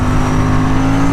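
An Aprilia Tuono 457 motorcycle engine runs under throttle, a steady loud droning tone held close and alone without talk.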